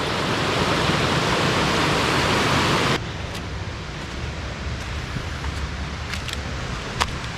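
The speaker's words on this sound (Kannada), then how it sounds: "ಅಲ್ಲೇ ನೋಡಿ ಇನ್ನೊಂದು ಫಾಲ್ಸ್." A hidden forest waterfall near Puttur gives a loud, steady rushing roar that drops abruptly to a softer, more distant wash partway through, with a few faint clicks over it.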